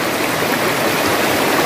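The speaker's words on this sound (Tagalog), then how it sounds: "ang tinig ng tubig, ang ingay ng tubig" Loud, steady rush of flowing river water, close by and continuous, with no voices.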